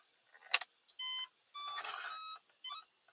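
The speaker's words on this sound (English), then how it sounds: "You're gonna hear it beep." A click, then a series of electronic beeps from an RC car powering up: a short chirp, a steady tone, a longer warbling beep and a final short beep, clear and close.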